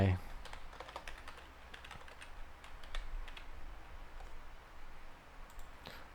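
Quiet, rapid taps on a computer keyboard come in short irregular bursts throughout, close and soft, while entering a name for a Facebook page.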